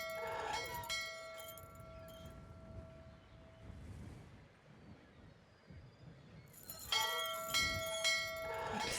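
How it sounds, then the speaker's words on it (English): Church bell rung in the Syberia video game, struck twice with long resonant ringing tones that fade, then two more strikes near the end over a low ambient background. "we just gotta ring the closer bell that he hears it"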